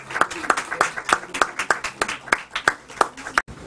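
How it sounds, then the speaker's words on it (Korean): Rhythmic unison clapping at an installation ceremony for a church council president, about a dozen evenly spaced, loud, near claps, each sharp and distinct, ending abruptly. "힘찬 박수로 우리 축하해드리겠습니다."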